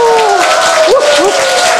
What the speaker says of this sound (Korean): 박수를 보냅시다!